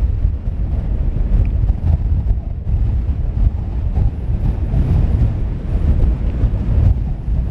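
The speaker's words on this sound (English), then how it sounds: "That's windy." Strong wind buffets the microphone on the Isle of Arran, a continuous loud rumbling roar with gusty surges and no clear voices.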